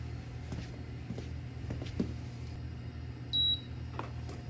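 One short, bright electronic beep from a Pit Boss Copperhead vertical grill controller powering up sounds over a low steady hum, with faint clicks and handling noise around it.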